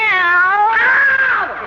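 A kitten gives one long, loud, drawn-out meow, close and rising then falling in pitch, with no voices over it.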